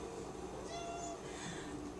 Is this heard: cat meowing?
yes